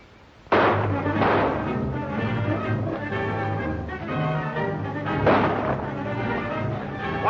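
Gunshots ring out in a 1947 western film shootout, sharp loud blasts at the start and again later over a busy, echoing battle din with faint voices mixed in.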